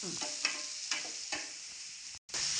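Onions and tomatoes sautéing in a pan for homemade mutton curry, a steady hiss of frying with several rhythmic scraping strokes of a spoon stirring through, close and alone.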